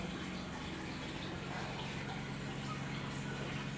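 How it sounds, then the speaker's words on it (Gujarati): Water pours steadily onto plants in a continuous broadband gush with no pauses, close and even throughout, with no voices. "જો આપણે ઝાડવામાં પાણી પીવડાવી દીધું મસ્ત"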